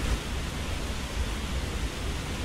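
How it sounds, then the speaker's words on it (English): Steady wind roars as a dense, even whoosh with low gusty rumbling in the video game Enderal, constant and fairly loud throughout, no voices. "You can hear everything and it's blowing, the wind."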